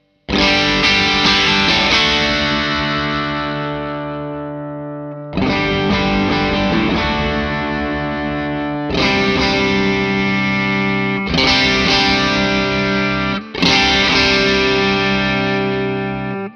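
Electric guitar through a Rock Fabrik Aqua Lung transparent overdrive/clean boost pedal into an amplifier with Accutronics spring reverb, several loud sustained chords ringing out and decaying, alone without talk.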